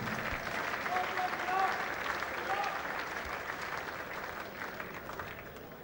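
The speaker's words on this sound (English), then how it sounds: "And a round of applause" A boxing crowd at a 1998 bout between Spencer Fearon and Rob Stevenson breaks into applause, a fairly steady wash of clapping that swells and then slowly thins, with a voice speaking beneath it.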